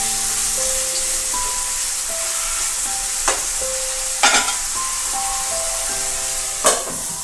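Chicken for Hyderabadi dum biryani being stirred in a hot pan: a continuous loud sizzle with sharp scraping strokes of the spoon at irregular intervals, nobody speaking.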